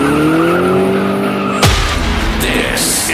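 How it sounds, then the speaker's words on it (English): A car engine revs, then tires squeal sharply in a loud, close skid that carries on for a moment. "when you hear tires squeal"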